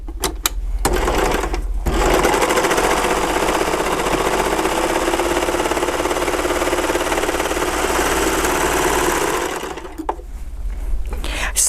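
Overlock sewing machine stitching a flatlock seam, a fast continuous mechanical whirring and rattling that runs loudly for about eight seconds, with brief quiet moments before and after the run.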